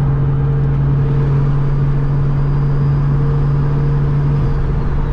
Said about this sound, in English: It's always nice to roll the passenger window down with the turbo being on that side.